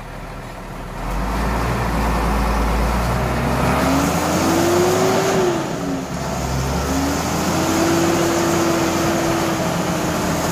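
A Deutz-Fahr Agrotron 155 tractor engine drones and revs loudly up close, its pitch rising and falling as it labors, with wind noise over it.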